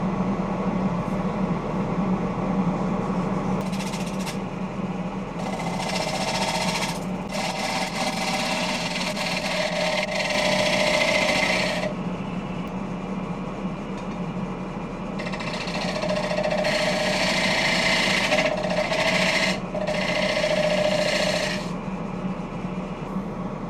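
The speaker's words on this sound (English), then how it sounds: "As I shear scraped the lighter colored wood" A wood lathe spins steadily while a tool shear scrapes lighter-colored glued wood, giving close raspy scraping in repeated passes of several seconds over a constant motor hum, with no talk.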